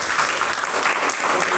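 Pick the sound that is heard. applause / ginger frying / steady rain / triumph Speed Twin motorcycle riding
applause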